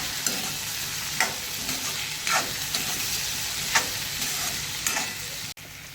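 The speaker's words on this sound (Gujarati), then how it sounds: "હવે બધું મિલાવી લઈશું" A spoon stirs chana poha with spices in a hot pan, giving soft scraping strokes at an irregular pace over a steady low sizzle, close and moderately loud, with no talking.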